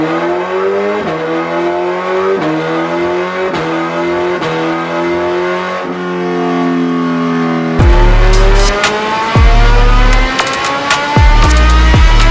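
A 2024 Suzuki Hayabusa engine fitted with velocity stacks revs hard on a dyno, its loud pitch climbing again and again as it pulls through the gears, then roaring louder with sharp bursts at the top before dropping back.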